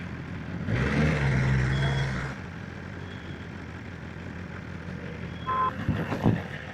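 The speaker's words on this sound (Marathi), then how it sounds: "खूपच जास्त ट्रॅफिक आहे इकडं." Heavy road traffic with trucks: a loud engine rumble swells past for a second or two, then fades to a steady road hum, with a brief tonal beep and more mechanical clatter near the end.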